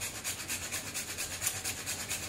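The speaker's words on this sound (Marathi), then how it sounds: "आपल्याला जायफळ किसून घालायचं आहे" Fresh nutmeg grated for a moong dal puran poli, a soft rapid rasping scrape repeating in quick even strokes, close and faint.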